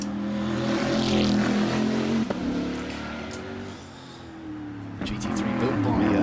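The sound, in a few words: M-Sport-built GT3 race car driving past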